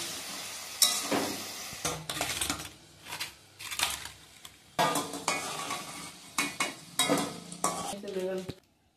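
Potatoes fried white without turmeric, stirred in a pan with a spatula: bursts of scraping and clattering against the metal over a steady sizzle, coming in uneven strokes and stopping abruptly at the end.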